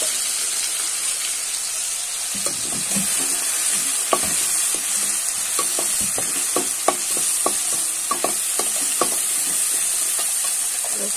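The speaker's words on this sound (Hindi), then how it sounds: "भुनने देंगे जब तक ये हल्का ब्राउन ना हो।" Brinjal coated in masala fries in a hot pan with a constant bright sizzle, while a spoon scrapes and taps the pan in irregular clicks and knocks, close up and without talk.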